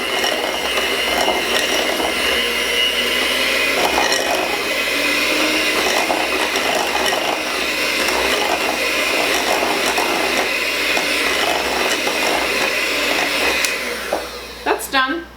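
Electric hand mixer beating sugar, vanilla and eggs for oatmeal cookie dough, a loud steady whir that runs nearly unbroken from start to finish and then cuts off abruptly at the end.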